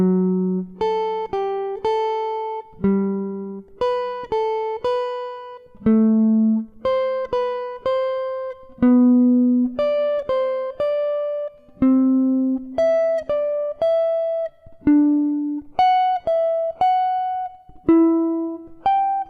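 A clean plucked jazz guitar plays a slow arpeggiated melody, single notes ringing in a lilting 3/4 pattern, solo and clear.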